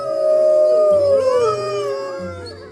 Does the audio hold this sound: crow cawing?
no